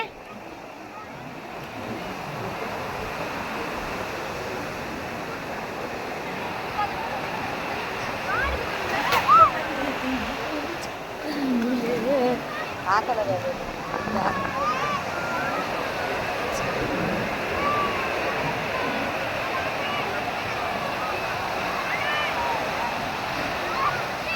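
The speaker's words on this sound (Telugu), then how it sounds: "చూసారా అలలు ఎలా వస్తున్నాయో" Continuous wash of surf with waves rolling in and breaking, a steady roar of water with faint voices now and then.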